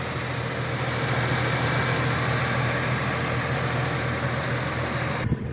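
A 2007 Subaru Tribeca engine idles steadily with a smooth, even hum and faint vibration, close and constant throughout, with no talking.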